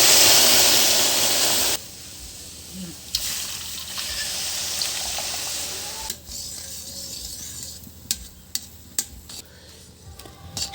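Two bowls of water pour into a pan holding a bowl of semolina, a loud steady gushing splash at first that cuts off, followed by softer scraping, stirring and a few sharp clinks against the pan.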